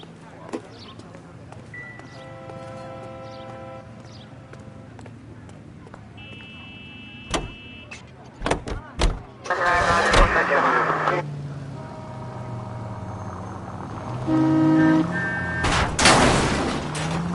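Car engine in a PS4 video game, droning steadily beneath game effects, with sharp gunfire-like bangs and crashes midway and voices talking over it.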